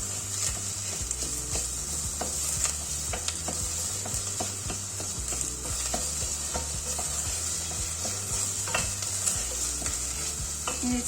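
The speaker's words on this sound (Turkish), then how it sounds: "Salçamla da kavurmaya devam ediyorum." Onions and a spoonful of tomato paste frying in a pot for a purslane dish, giving a constant close sizzle broken by repeated scraping and clacking as a utensil stirs against the pot, with no talking.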